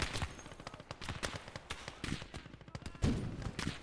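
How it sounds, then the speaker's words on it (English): Gunfire in the WWII video game Gates of Hell: Ostfront, a dense, rapid crackle of shots in bursts, some heavier reports among them, loud and continuous with no clear talk. "Taking a couple shots"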